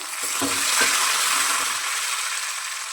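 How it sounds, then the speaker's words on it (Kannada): Chillies and curry leaves frying with peanuts in a pan, an even close sizzle with a few light scrapes and clinks near the start, no voices. "ಕಡಲೆ ಬೀಜ ಸ್ವಲ್ಪ ಈ ಥರ ದೋಸ್ತಾದ್ಮೇಲೆ ನಾಲ್ಕು ಮೆಣಸಿನ್ಕಾಯಿ ಹಾಕ್ತಾಯಿದ್ದೀನಿ ಕರ್ಬೇವಿನ ಸೊಪ್ಪು"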